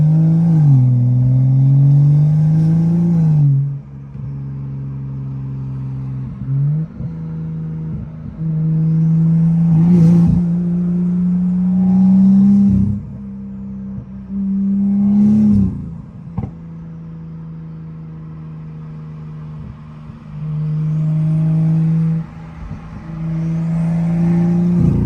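A Mercedes-AMG GT engine fitted with a custom full 3-inch intake and a stock turbo revs repeatedly up close, in loud bursts separated by short idle dips and brief clatter, with a deep throaty drone throughout.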